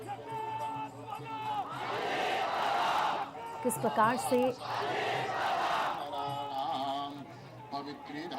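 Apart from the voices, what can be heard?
large crowd at funeral of Ajit Pawar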